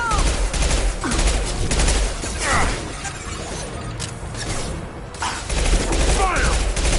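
Close-quarters combat in Mass Effect 2 erupts with dense bursts of rapid gunfire and sharp impacts, loud and near, broken by brief lulls before the shooting resumes.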